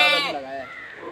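A white Mewati goat, a 60 kg home-bred buck, gives a loud, close bleat at the start that trails off over about a second.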